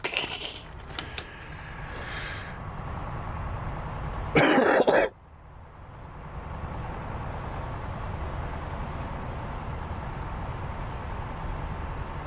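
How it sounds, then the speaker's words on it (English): A loud, harsh burst of coughing stands out midway, preceded by a few small clicks and set against a quiet, steady background hum. "cough my insides up again there"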